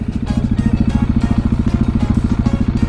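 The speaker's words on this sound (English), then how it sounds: "Time to go out, pop some wheelies." A motorcycle engine revs hard and close in rapid, rhythmic pulses, a loud throbbing exhaust note with fast repeated bursts as the rider pops wheelies.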